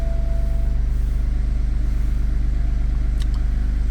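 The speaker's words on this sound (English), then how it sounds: "Okay, moment of truth. Car is working." A BMW 2 Series F45 engine idles steadily right after starting, following a repair of a water-damaged engine control unit: a loud, close, even rumble with a fast regular pulse throughout and no talking.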